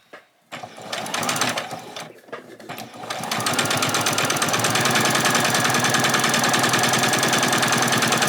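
A sewing machine stitches ruffles for a spring outfit, starting with a few short bursts before settling into a loud, fast, continuous rattling run up close, with no talking.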